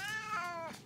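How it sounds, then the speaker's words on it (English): A house cat gives one drawn-out meow indoors, close and clear, rising slightly then falling, alone without any talk. "And there's a cat too."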